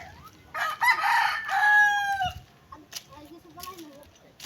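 A rooster crows loudly at a close chicken coop in a roadside village, one long drawn-out call with other chickens clucking faintly around it.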